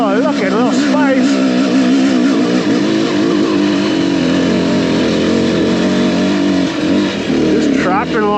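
A motorcycle rides along in second gear with a steady engine drone and a few rev swells, close and loud throughout, while a rider's voice talks over it.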